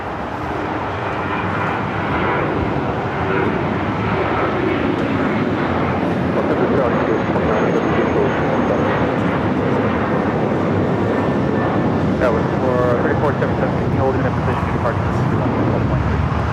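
A Dubai Air Wing Boeing 747 cargo plane roars steadily at an airport, a broad continuous jet rumble with wind buffeting and people talking over it.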